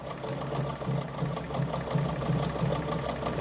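A Jones model 556 sewing machine sews a buttonhole with a steady, rapid mechanical rhythm, close by and moderately quiet, running continuously without any voices.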